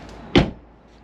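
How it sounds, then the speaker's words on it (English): A single solid thump as the driver's door of a Range Rover Evoque swings shut, close and loud, with a short fading rattle afterward and near silence around it. "let's see if the door closes okay."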